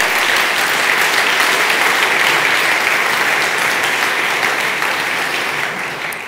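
Sustained applause from a large crowd, steady and dense throughout, tapering off slightly at the end.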